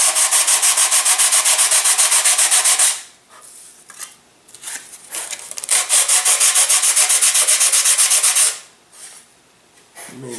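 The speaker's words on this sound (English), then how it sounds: "Now that you have your wings separated, you can go ahead and sand for dihedral." Sandpaper rubbing across a balsa catapult glider wing to shape the dihedral joint, close up and steady, two long rasping passes separated by a short pause with lighter scuffs.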